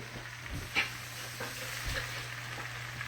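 Chopped vegetables stirred into rice frying in a pan for dirty rice: continuous soft sizzle with a faint hiss, punctuated by a few light scraping stirs and clinks of a utensil, close and quiet.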